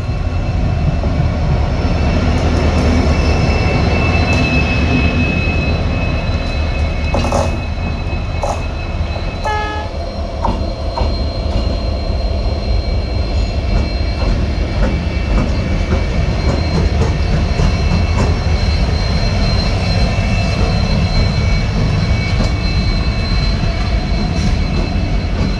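A train runs through the Thar Desert between Jodhpur and Jaisalmer, its steady heavy rumble and rattle continuous throughout, with brief metallic clanks and squeals partway through and a faint horn-like tone in the mix.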